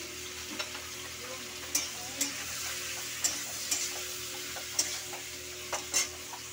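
Fish curry spices sizzle steadily in a hot pan while a spoon scrapes and stirs with light intermittent clicks against the metal, no one talking.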